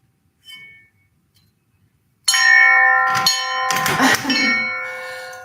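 Resonant metal chimes ring out after a brief soft tone, with several struck notes overlapping into a bright, sustained shimmer that decays slowly, loud and close with no talking.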